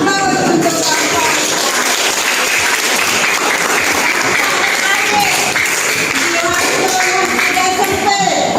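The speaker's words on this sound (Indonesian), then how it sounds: "Kita beri aplaus untuk Bapak." An audience applauds a presenter at a classroom teaching session, dense close clapping sustained evenly for several seconds.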